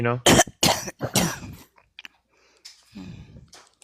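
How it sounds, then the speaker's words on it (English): A run of sharp, forceful coughs right against the mic, followed by a few quieter bursts and a softer cough or throat sound near the end. "I'm sorry, probably coughing the mic. I'm trying to keep it muted when I cough."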